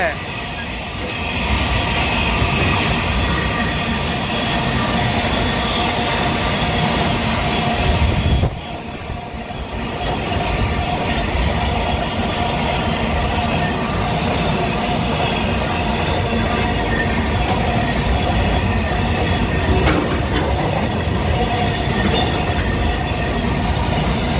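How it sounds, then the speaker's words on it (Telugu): The Nizamuddin–Thiruvananthapuram Swarna Jayanti superfast express roars past close by at speed on the Calcutta–Madras main line, a loud continuous rumble and rattle of wheels on track, with a brief dip partway through. "ఇప్పుడు ట్రైన్స్ ఇప్పుడు హై స్పీడ్లో వస్తాయి"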